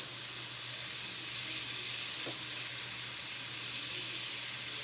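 Chicken pieces cook on a Pampered Chef Deluxe Grill & Griddle, giving a soft, even sizzle and hiss with a faint low hum beneath, no one speaking.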